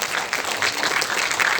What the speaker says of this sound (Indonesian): tepuk tangan buat Sigi